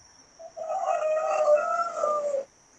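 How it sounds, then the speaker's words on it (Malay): A rooster crows once, a single drawn-out call of about two seconds, fairly close and clear against an otherwise quiet background. "Ayam mana tu bunyi?"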